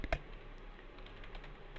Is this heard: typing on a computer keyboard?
yes